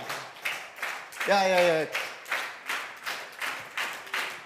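A presentation audience claps in a steady rhythm, with sharp evenly spaced claps about every half second. A voice briefly speaks partway through, over the clapping.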